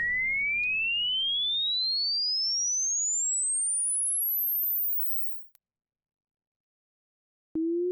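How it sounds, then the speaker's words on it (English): Logarithmic sine sweep rising smoothly from 300 Hz to 16 kHz, a clean pure tone climbing steadily for about five seconds over faint low hum, then silence and a short steady tone at the end. "I'm gonna make a sweep, logarithmic sweep"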